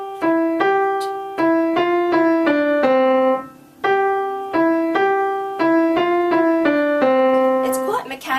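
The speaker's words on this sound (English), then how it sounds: "If I tried to play that without any shaping, without any slurs, it would sound like this" Piano plays The Cuckoo with no slurs or phrasing, each note struck evenly and detached in a steady, mechanical rhythm; clear and close, no talking.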